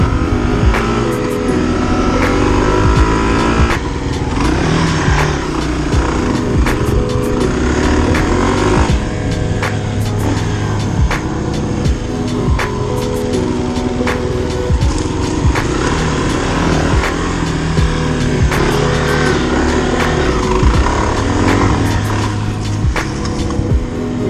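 A sold pickup truck's engine runs loud and close throughout, rumbling and revving steadily as it pulls away, with no talk over it.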